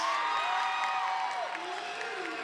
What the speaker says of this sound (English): The large crowd, the home crowd here goes wild on that one.